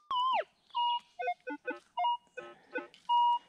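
A metal detector sounding a string of short electronic tones over a rusty nail, with about ten separate beeps at varying pitches, clear and close, alone without talk.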